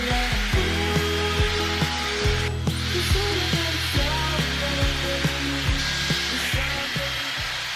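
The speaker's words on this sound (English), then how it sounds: "I finished blow drying my hair" A handheld hair dryer runs steadily while someone dries their hair, its loud, constant blowing whine overlaid by a regular series of faint clicks and taps throughout.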